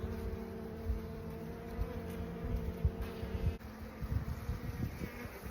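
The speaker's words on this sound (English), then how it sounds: "So this is wide enough for the normal bees to come up through." Honeybees in a West Texas hive buzz in a steady, dense hum that stays fairly quiet and continuous throughout, with faint rustling and no voices.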